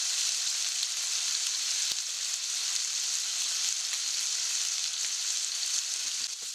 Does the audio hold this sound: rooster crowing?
no